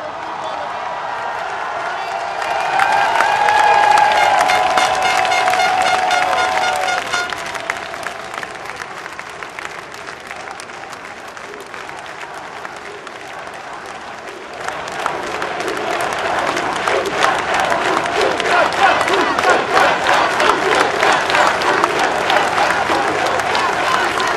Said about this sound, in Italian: guarda, una folla in delirio, è fantastica sta cosa